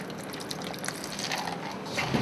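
Ice water poured into pie dough in a bowl for an apple crumb pie, a soft continuous trickling, splashing sound heard close up with no talking.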